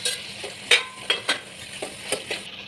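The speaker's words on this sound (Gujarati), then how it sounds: "ચલો આ ફ્રાય કરેલા ટીંડોળા નાખીશું।" Fried tindora (ivy gourd) goes into hot oil with garam masala and Maggi masala, and a soft sizzle runs underneath several sharp metallic clinks and scrapes of a utensil stirring in the pan.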